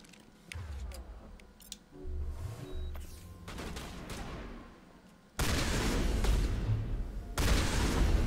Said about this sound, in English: The shotgun's just so satisfying.